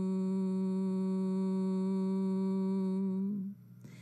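A person hums a long, steady bee-like drone during Bhramari pranayama, one sustained nasal tone held for about three seconds before it wavers and stops, alone in a quiet room; a voice imitating a bee.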